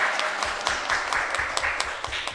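School supporters at a schools quiz quarterfinal applaud in a dense, steady patter of many clapping hands, with a few sharper claps standing out near the front.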